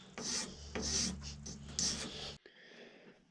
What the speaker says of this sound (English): take a file.